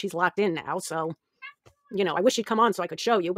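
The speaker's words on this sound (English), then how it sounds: "You can hear my cat in the background." A house cat meows faintly in the background, with a brief thin call during a pause, while someone talks steadily over most of it.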